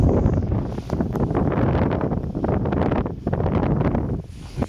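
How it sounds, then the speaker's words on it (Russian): Strong wind buffets the microphone outdoors during a metal-detecting dig, a loud continuous rumbling roar with gusty surges and no talk. "Ветер ужасный."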